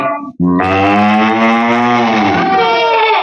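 A voice imitates a cow mooing in one long, loud, drawn-out low moo after a brief spoken lead-in, told as part of a children's story.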